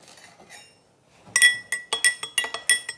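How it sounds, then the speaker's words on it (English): A utensil stirs liquid in a glass during a colligative properties demonstration, making a quick run of bright, close clinks that ring against the glass after a quiet moment. "stir this up a little bit"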